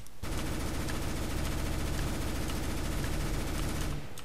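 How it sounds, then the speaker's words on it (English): Sustained rapid automatic gunfire from a weapon in CS:GO, fired while running; a dense, continuous burst of loud shots lasting about four seconds with no talking. "if I'm running and gunning, shit, I've got bullet holes there."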